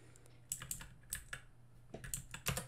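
Keystrokes on a computer keyboard, typed while a web dashboard for a Discord bot is coded: short bursts of clicky taps in an irregular rhythm, close and fairly quiet, with no voice.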